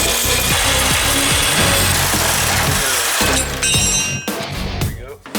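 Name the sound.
cutting square steel tubing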